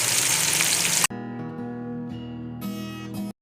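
Green chillies going into tomatoes and garlic frying in a pan make a loud, dense sizzle for about a second before it cuts off abruptly and music takes over.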